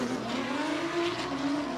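A drift car at a South Australian state series drifting round revs in a sustained high engine note that surges slightly, at moderate distance, with faint tire noise and no talk.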